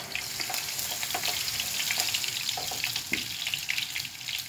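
Chopped garlic frying in oil for mustard greens with shrimp, a steady close sizzle and crackle with occasional stirring clinks.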